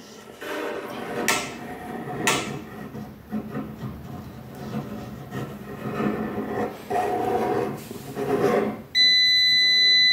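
A Parkside multi-material detector beeps as it passes over a copper pipe, a steady electronic tone rising near the end over soft handling and scraping noise, close by.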